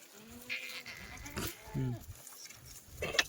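Kathiawari goats bleat several times at close to moderate distance over faint outdoor background noise.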